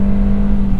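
A 2022 Nissan Kicks under full throttle gives a loud, steady engine drone with a strong sustained tone, heard close from inside the car for under a second with no talk.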